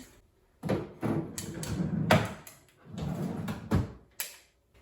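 A drawer full of paper being slid open and shut several times in a minimalist living room, with a series of close wooden scrapes and knocks separated by brief pauses.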